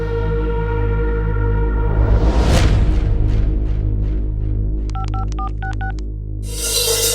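A telephone number being dialed: a quick run of clear DTMF keypad tones near the end, heard over a steady low musical drone with a swelling whoosh earlier.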